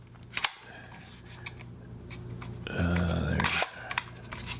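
A Horizon S-3 U-500 panoramic film camera fires its shutter with a sharp click, then its swinging lens whirs across the film for under a second and ends in another click, heard up close in a quiet room.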